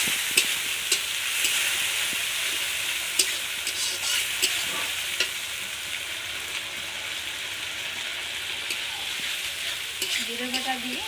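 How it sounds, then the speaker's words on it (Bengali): Cumin paste is stirred into onions frying in a pan for village-style chicken curry, with a loud, continuous sizzle and repeated scraping and clacking of the spoon against the pan, close and without talk. "জিরে বাটা দিয়ে অল্প সময়ের জন্য নাড়াচাড়া করে নেব, যাতে পেঁয়াজ সাথে মিশে যায়।"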